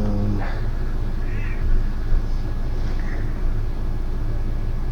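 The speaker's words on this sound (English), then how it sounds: "Any more meowing?" A few soft cat meows, two or three short calls, sound over a steady low hum.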